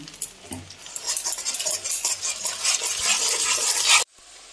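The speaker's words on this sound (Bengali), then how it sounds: "টমেটো, আদা, রসুন, পেঁয়াজ সব এবার কষিয়ে নিচ্ছি আমি।" Tomato, ginger, garlic and onion sautéed in a pan for a Bengali bata fish curry, with steady sizzling and scraping spoon strokes for about four seconds before the sound drops away.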